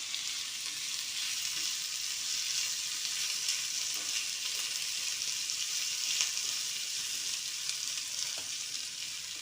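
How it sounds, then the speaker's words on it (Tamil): Onion, curry leaves, green chili and ginger sauté in a pan for Tamil thavala adai, giving a steady, moderately loud sizzle with faint stirring clicks throughout and no talking. "கருவேப்பிலை, மல்லி, பச்சை மிளகாய், இஞ்சி எல்லாமே போட்டு வதக்கிக்கிறோங்க."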